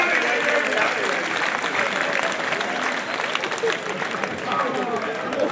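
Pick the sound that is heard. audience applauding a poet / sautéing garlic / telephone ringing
audience applauding a poet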